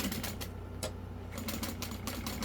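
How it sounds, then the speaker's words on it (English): A sewing machine stitches the seam of a Willow Wristlet bag with a D-ring attached, a steady close rapid mechanical chatter of the needle running continuously with brief pauses and no talking. "we are gonna sew this together"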